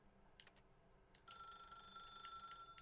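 A telephone in The Stanley Parable starts ringing with a steady, electronic bell tone after a few soft taps, clear and sustained against a quiet background.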